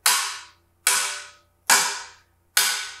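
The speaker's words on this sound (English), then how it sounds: "you take your stick, your timbal stick, and you're going to hit against the metal shell" A timbale stick strikes the metal shell of a timbale four times, evenly spaced, each hit bright, sharp and ringing briefly before fading, with nothing else heard.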